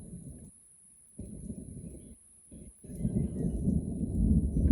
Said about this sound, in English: We're having a bit of a little rolling thunder.